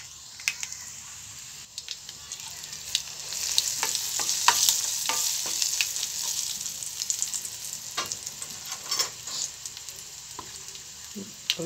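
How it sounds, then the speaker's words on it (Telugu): Crushed garlic and dried red chillies sizzle in hot tempering oil, a steady crackle broken by sharp pops and spatters throughout, close and fairly loud with no talking. "ఎల్లిపాయలు కొంచెం మాడితేనే టేస్ట్ బాగుంటుందండి పోపులా"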